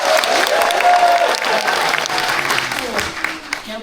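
An impressed audience at a live science show gives loud, enthusiastic applause with a touch of cheering, strongest at the start and gradually fading, with voices heard through it.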